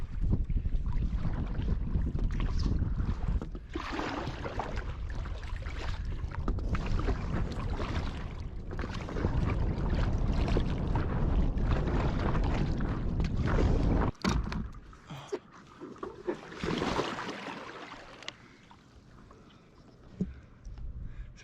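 Strong wind roars and buffets the microphone at a shoreline campsite, a heavy continuous rush for most of the span that drops off briefly before gusting back in, with no one speaking.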